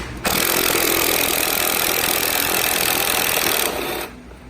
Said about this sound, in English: It's a long bolt, so if you have an electric impact, it's a lot faster.